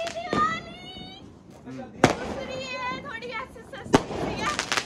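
Diwali firecrackers going off outdoors, with two sharp, loud bangs standing out amid steady chatter and whistling, whizzing crackle from the festive street scene.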